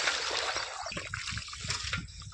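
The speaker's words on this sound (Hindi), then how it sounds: "देखो ये चल रहा पानी।" Rainwater runs along farm paths into drains after heavy rain, a steady close trickle and gurgle with small splashes throughout.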